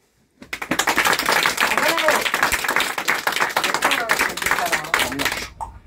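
Dynamic clapping from a theatre audience at a hypnosis stage show: dense, loud applause starting abruptly after a brief silence, sustained for several seconds, then cutting off sharply.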